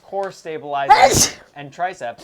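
One sharp, loud sneeze bursts out in the middle of a man's close, steady speech, sudden and breathy, with his talking resuming right after it.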